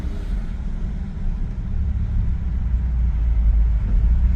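1950s Dodge with a Stromberg carburetor and fluid drive on a test loop, a low steady engine rumble from inside the moving car, continuous and fairly loud with no talking.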